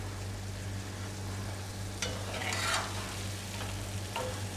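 Gulab jamuns fry in hot oil with a faint, steady sizzle under a low background hum, broken by a few brief clinks and stirring scrapes.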